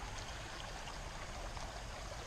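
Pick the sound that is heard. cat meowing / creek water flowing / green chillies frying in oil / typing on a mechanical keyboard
creek water flowing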